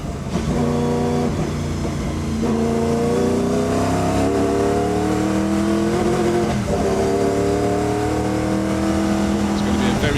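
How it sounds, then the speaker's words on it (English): A 1989 Sauber Mercedes race car with a 5-litre turbocharged V8 accelerates hard at a hillclimb event, its loud engine climbing steadily in pitch through repeated gear changes, with a commentator talking over it. "Kenny Atchison's got a 5-litre turbocharged V8 motor, one of the best sounds in motor racing history"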